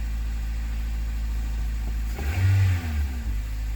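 A 2005 Toyota Corolla with the 1ZZ engine cranks briefly and catches after an oil change, then settles into a steady idle, heard close over a constant low background hum.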